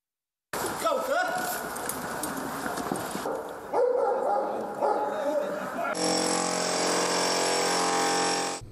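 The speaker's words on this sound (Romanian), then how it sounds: "Pompierii au făcut demonstrații cu echipamente de ultimă generație și l-au avut drept ajutor pe câinele Thor" A rescue dog barks during a firefighters' earthquake rescue demonstration with modern equipment, its barks mixed into loud, busy ambient noise before a steady broadband roar takes over.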